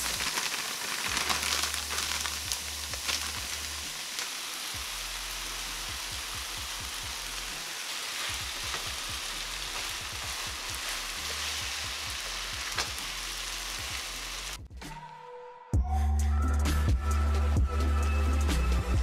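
Vegetables, rice and sauce frying in a pan, a loud continuous sizzle close up with scattered pops and crackles, briefly cutting out near the end before a louder burst resumes.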